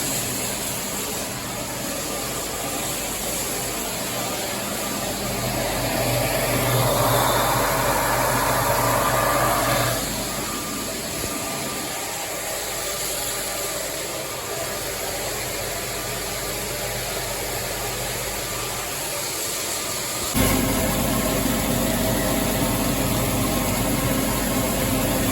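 A grain vac tractor's engine idles steadily while warming up, a continuous loud low rumble with broadband hiss that shifts in level partway through and rises again near the end.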